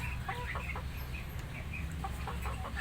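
A hen clucking in a livestock selection setting, a series of faint short clucks in an irregular rhythm over steady low background noise, with no talk.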